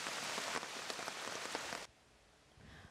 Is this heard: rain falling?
yes